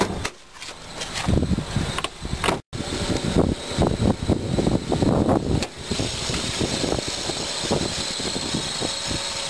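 A 2004 Honda Accord LX's 2.4 liter i-VTEC four-cylinder engine idles steadily up close with the hood open, a low mechanical rumble with some clatter and thumps early on before settling into an even drone.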